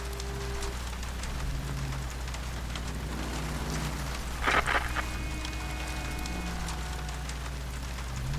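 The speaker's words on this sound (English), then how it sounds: "I also did a good job with the rain sound effects" Steady rain patters on surfaces throughout a rainy scene in the video game L.A. Noire, a constant hiss under low ambient rumble, with a brief louder clatter midway and faint tonal hums.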